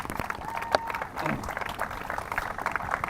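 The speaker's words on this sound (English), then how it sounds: "Let's give everybody a round of applause" Audience applause at an outdoor ribbon cutting for a fitness court, scattered clapping and crowd murmur running for a few seconds with voices mixed in.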